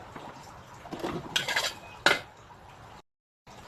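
Metal utensils scrape and clatter in a hot dry wok as wide rice noodles are stir-fried, with a few sharp clanks and short scraping bursts, then a brief silence.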